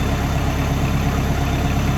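A Kubota 5240 tractor engine idles on a cold day with a steady, even diesel rumble that holds at a constant level throughout, close and alone.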